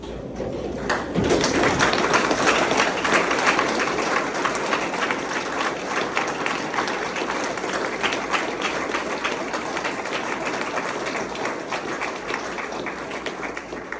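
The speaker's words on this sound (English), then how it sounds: "I want everyone to stand and give a round of applause for her beautiful life." Sustained applause from an audience at a memorial celebration of life: dense, steady clapping that starts after a second and continues evenly throughout, close and fairly loud, with no talking over it.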